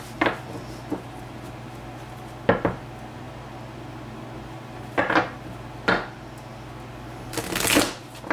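Tarot cards are shuffled in several short, crisp riffles spread across a quiet background, each burst a separate flutter of cards, the last one longer and louder.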